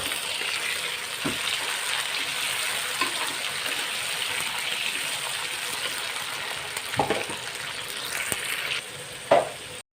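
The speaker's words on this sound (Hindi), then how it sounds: "टमाटर डालने के बाद कुछ देर पकाएंगे हम इनको" Tomatoes and chicken sizzle and fry steadily in a pan for an aloo chicken curry, a continuous close frying hiss with occasional stirring clatter near the end and no talking.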